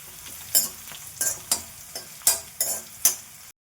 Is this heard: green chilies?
yes